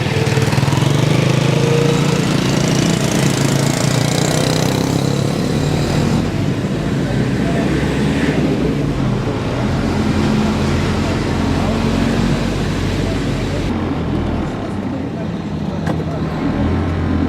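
Heavy, sustained engine drone of an overloaded truck crawling in low gear on a busy road in Bali, loud and close with steady rumble throughout, with people talking over it.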